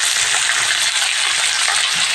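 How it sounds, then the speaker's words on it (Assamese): A pan of food seasoned with salt and turmeric fries with a dense, loud, steady hiss, close by and unbroken, with no voices. "মই অকণমান ভাজি ঢাকি মাৰি ল'ম।"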